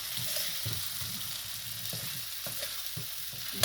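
Fried cauliflower is stirred into a pan of aloo gobhi, soft sizzling under a few distinct scrapes of the spoon at an uneven pace, close and fairly quiet, with no voices.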